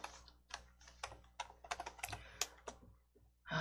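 Rapid typing on a computer keyboard during a Korean Entry coding lesson: a steady run of close, crisp key clicks with irregular bursts and brief pauses, no voices.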